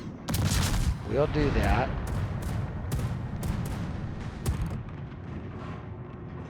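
Warship guns fire shells in the naval game World of Warships: a string of heavy booms and sharp cracks rolls out over a dense rumbling battle bed, while someone talks over the action.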